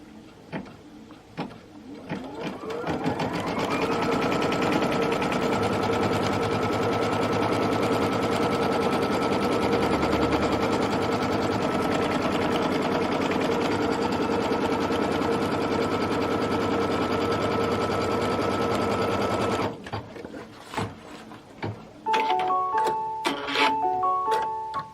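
A sewing machine threaded with white thread stitches steadily for about fifteen seconds at a close, even hum, then stops and gives way to a few quieter handling clicks and short bursts.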